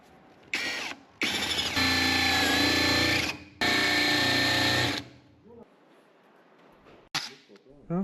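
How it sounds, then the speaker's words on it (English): A 10mm wood drill bit bores holes in a tabletop, giving two loud sustained whining drill runs with a short gap between them, followed by quieter handling clicks. "I'm using a 10mm wood drill to make 1 centimeter wide holes."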